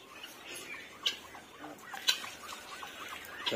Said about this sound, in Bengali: আর আমার মুরগিগুলা ওই যে সাইড দিয়ে সবগুলা ঘুরতেছে।